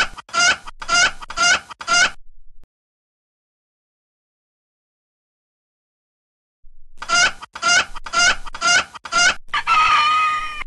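Chickens cluck in loud, rapid bursts of squawking calls, a cluster at the start, then silence, then another run of clucks ending in a longer drawn-out cackle.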